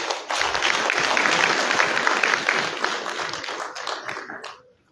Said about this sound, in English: A big round of applause for the entire team.